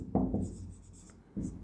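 Chalk or marker writing on a classroom board during a physics lecture, two short scratchy bursts of strokes close by, separated by a quieter gap.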